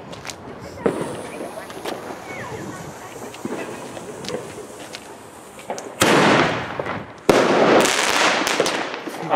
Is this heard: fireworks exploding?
yes